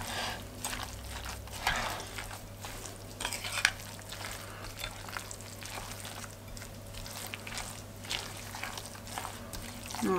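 Ingredients seasoned with pepper and parmesan are stirred together in a bowl, producing steady scraping and wet mixing sounds close by, with a low constant hum underneath and no talking.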